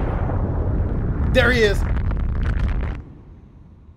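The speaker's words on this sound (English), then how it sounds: "That was a huge explosion." A huge explosion in the video game Beyond Two Souls rumbles as a deep, sustained blast under a voice, fading into quiet near the end.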